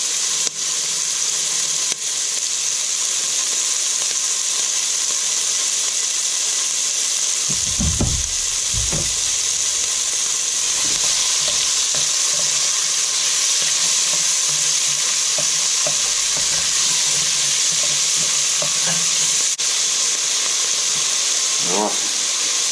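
A chopped brown onion sizzles steadily in a pan, a constant hiss running throughout with a few louder bursts and stirring scrapes in the middle, and a voice talks briefly over it.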